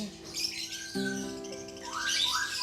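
Several lovebirds squawk and chirp close by in an aviary, harsh calls overlapping with brighter tweets in a busy, continuous chorus.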